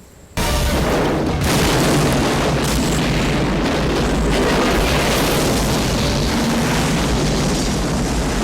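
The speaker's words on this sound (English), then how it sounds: "A bomb." A film bomb explosion bursts suddenly after a brief quiet moment, followed by a sustained, loud, roaring blast and rumble of fire and debris that continues without letup.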